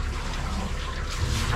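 Water runs steadily over a poodle's coat as it is rinsed during a bath, a continuous close splashing wash with no voices.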